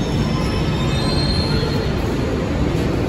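Steady, loud rumble and hiss of a metro train running through a station, with a faint high squeal of wheels on rail and no breaks or voices.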